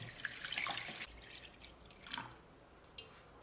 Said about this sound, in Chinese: 我们给它加入清水